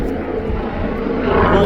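Steady loud engine drone of a helicopter overhead, continuous and rumbling, with a voice talking over it.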